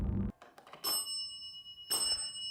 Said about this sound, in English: Can you tap the bell one more time?